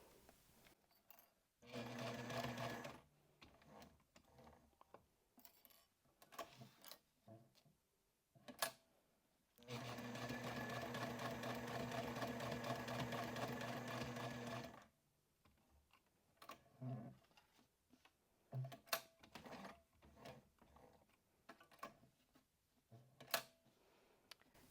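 Sewing machine running continuous stitches on a Rayna sling, two bursts of steady mechanical whirring, one short and one about five seconds long, with clicks and handling noises between them.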